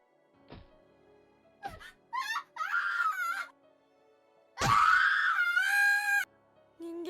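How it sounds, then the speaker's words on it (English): Boy screaming in terror in the horror game Corpse Party, with short anguished cries and wails that build into a long, loud, trembling scream near the end, separated by silent gaps. "I've never heard screaming like this before. It's pure primal terror cutting through the air"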